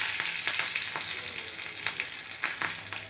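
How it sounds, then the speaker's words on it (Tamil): Curry leaves crackle and sizzle in hot oil with spluttered mustard seeds, tempering for an onion chutney. A steady, close frying hiss is broken by sharp pops and bursts of spitting, with no voices. "கடுகு பொரிஞ்சிச்சு. இப்போ கருவேப்பிலை சேர்க்குறோம்."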